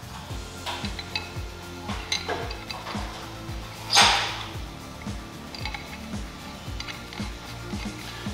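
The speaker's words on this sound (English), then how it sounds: "Go ahead and get started by threading them in by hand." Metal adapter fittings are threaded by hand into a Fox Body fuel rail, giving close, light clinks and scraping clicks with one sharper metallic clank partway through.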